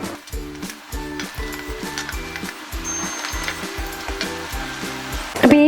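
Kerala fish curry, Kottayam style with kudampuli, where fish pieces go into curry paste already boiling in the pan: a close, steady sizzle and bubbling with a regular pulsing rhythm, no voices.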